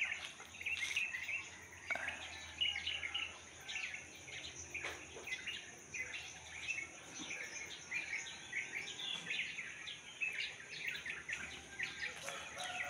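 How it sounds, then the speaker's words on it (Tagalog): Birds chirp and call at dawn in quick, scattered high tweets that come and go, while a steady drone of crickets or insects runs underneath, all soft and a little distant. "Tapos yung maibon ay humuhuni na po."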